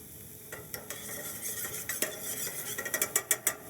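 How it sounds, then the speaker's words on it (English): Shallots sautéing in a pan sizzle softly while a metal utensil scrapes and taps against the pan in a quickening series of clinks, close and free of speech. "I'm going to saute my shallots just for about a minute or so, just to extract that flavor."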